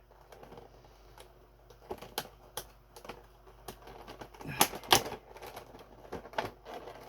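Plastic clamshell packaging being pried open around a Final Fantasy VII Remake Play Arts Kai Tifa Lockhart action figure, giving close, irregular crackles and snaps that cluster into louder bursts near the end, with no talking.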